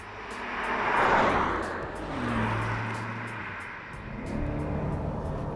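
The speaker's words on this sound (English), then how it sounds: "Driving the new Corvette is surprisingly normal." A 2020 Chevrolet Corvette Stingray C8 sports car drives through open countryside, its engine a steady moderate drone that swells and eases in gentle waves with the road noise, heard from inside the car with no talking.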